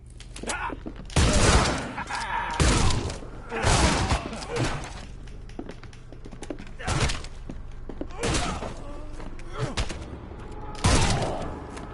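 Gunfight in The Sinking City, with repeated heavy broadband bursts of gunfire and impacts spaced every second or two, loud and close, over a rumbling game backdrop with some talk between shots.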